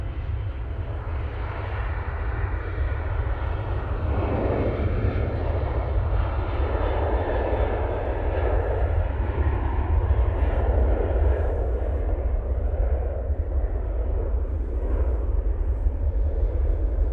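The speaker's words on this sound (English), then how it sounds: "That's the Ryanair going off to Rome." A Ryanair airliner bound for Rome takes off from Manchester Airport, its jet roar loud, steady and rumbling for the whole stretch, with no voices over it.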